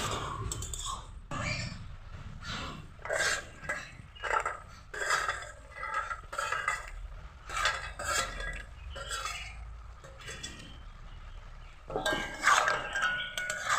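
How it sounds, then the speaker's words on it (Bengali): Lentil dumplings (bori) being stirred into a bottle gourd shukto curry in a pot on medium gas, with repeated clinking spoon-on-pot scrapes and clicks in an irregular rhythm, close and fairly loud, no talking. "বড়িগুলো তরকারির সঙ্গে ভালোভাবে মিশিয়ে দিচ্ছি"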